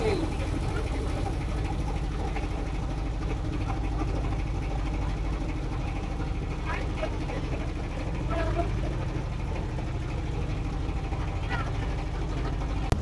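A trawler's engine runs steadily on the water during rain, a continuous broadband rumble and hiss with faint clatter, loud and unbroken across the whole stretch.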